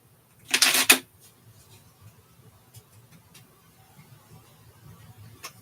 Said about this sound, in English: Gonna get really good at shuffling cards.